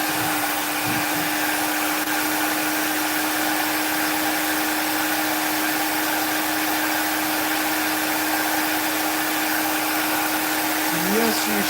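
A Dremel rotary tool carving runs steadily for the whole stretch, a constant high motor whine with a fixed humming tone, close and even in level.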